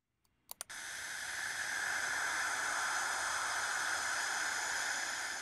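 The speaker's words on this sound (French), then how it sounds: "Ce sifflement est produit par des particules chargées dans l'environnement." Steady broadband hiss of charged particles picked up by the Cassini spacecraft's radio instrument during its first dive between Saturn and its rings, beginning after a few sharp clicks, then holding loud and even to the end, with no voices.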